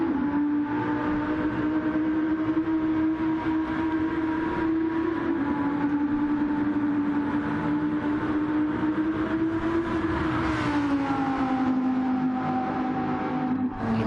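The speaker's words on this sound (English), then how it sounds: "Oh yeah, you heard it again, the turbo." A Porsche race car in a Spa 24 Hours sim race, a steady engine drone with a sustained turbo whine holding pitch and dipping slightly, continuous and fairly loud with no talk.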